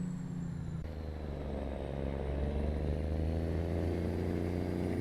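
A truck engine in Euro Truck Simulator 2 drones steadily at close range. The low rumble holds through the clip with a slight rise in pitch, and no one speaks.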